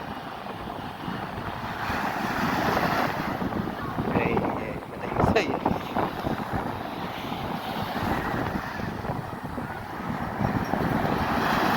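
Sea waves roll in on a beach at Chennai under steady wind buffeting the microphone, a continuous rushing wash with people talking briefly over it.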